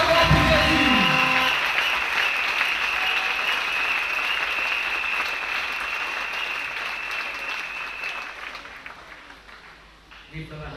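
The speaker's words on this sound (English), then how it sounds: "Clap for Jesus" Church service audience clapping for Jesus, sustained applause that begins over fading music and a voice, then continues steadily before tapering off near the end.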